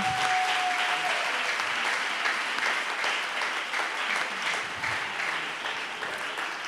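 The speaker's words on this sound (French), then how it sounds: "Acclamons le Seigneur." Congregation clapping together during a thanksgiving service in a church, a dense, steady wash of applause that carries for the whole stretch and fades slightly toward the end.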